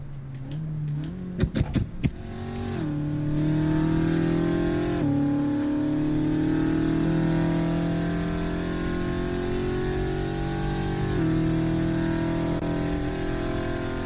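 A Cadillac CTS-V V8 in the racing game Assetto Corsa burbles steadily and loudly for most of the stretch, with a few sharp pops near the start and small shifts in pitch as the revs move.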